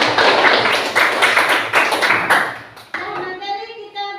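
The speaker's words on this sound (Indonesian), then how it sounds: "Nah, tepuk tangan." A group clapping in a classroom with a burst of quick, loud, close applause that thins out near the end, where a voice starts to speak.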